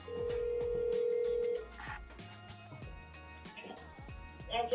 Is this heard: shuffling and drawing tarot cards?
no